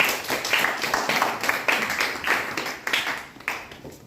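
A classroom group claps for a presenting student team, a steady patter of many hands applauding at moderate volume for about four seconds and tapering slightly toward the end.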